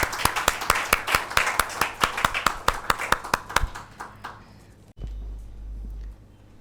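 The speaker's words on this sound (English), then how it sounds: "Kindly welcome him with a big round of applause" Clapping at a leadership talk to welcome the speaker, Mr. Rajesh, with sharp, evenly spaced claps from a small nearby group that taper off after about four seconds, followed by a low hum.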